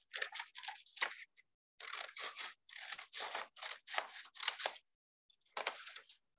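Scissors cut through paper in a quick series of crisp, close snips and crunches, grouped in irregular bursts with short pauses between, fairly quiet and with no talking.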